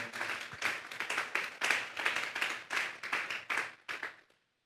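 A church congregation claps hands together in a sustained burst of applause offered to God, rhythmic pulses of clapping filling the room for several seconds before stopping abruptly.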